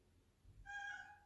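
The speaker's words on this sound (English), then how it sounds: "Side note, if you hear a cat," A cat gives a single short, faint meow nearby in a quiet room, brief and thin with no talking over it.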